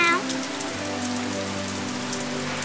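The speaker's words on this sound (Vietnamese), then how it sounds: "ngoài kia trời mưa lạnh" Steady rain falling outdoors, a continuous dense patter on surfaces under soft background music, with no voices.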